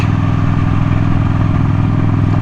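A motorcycle engine runs steadily at close range, a constant low throbbing idle with a slight clatter, no voices.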